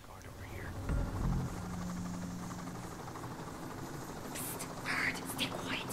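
Helicopter in the video game Payday 2, a steady low rotor drone running under quiet talk throughout, with faint game noises and a brief brighter burst near the end.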